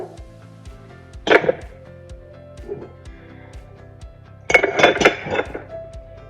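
Dishes and glasses clink as a dishwasher is emptied in the morning, two bursts of clattering ceramic and glass, a brief one then a longer busier cluster, over a steady low hum with no talk.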